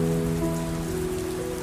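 Gentle rain patters in a continuous, even wash, with sustained musical tones held underneath throughout.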